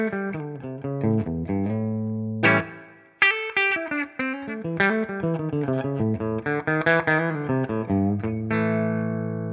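Distorted electric guitar playing a riff of chugging and ringing notes through a Rev 212 cabinet impulse response, mic'd with a Cascade Fathead, with amp-cabinet tone, a brief gap midway, no voices.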